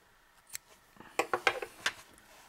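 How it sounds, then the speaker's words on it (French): Scissors snip through crochet yarn during a shawl project, a few quick sharp cuts in close succession, near and clear with no talking. "je coupe mon fil"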